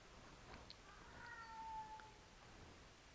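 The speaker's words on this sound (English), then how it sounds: "I have a meowie cat." A single faint meow from a house cat, with a brief rising tone in a quiet room full of background hiss.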